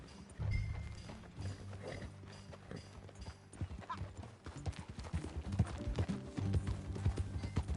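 Rapid, rhythmic clip-clop of galloping horse hooves with a brief whinny, sound effects from the video game Red Dead Redemption 2, fairly quiet overall.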